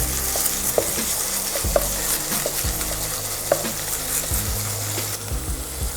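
Minced meat for a chilli bean stew browns in a hot pan with a loud, steady, close sizzle throughout, broken by occasional small clicks and scrapes.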